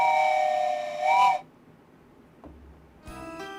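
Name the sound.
virtual train whistle sound effect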